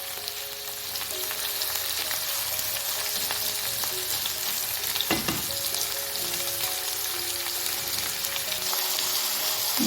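Onions frying in a pan for a Tunisian merguez omelette, a steady close sizzle and crackle throughout with a faint clunk of a utensil midway, no talking.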